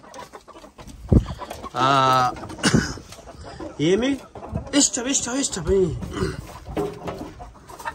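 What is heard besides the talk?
Adler chickens and roosters clucking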